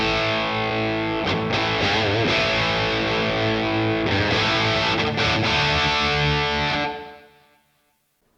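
Electric guitar plays a crunchy overdriven tone through a Boss Katana:GO pocket amp, with loud sustained chords and strums that ring out and fade to silence near the end.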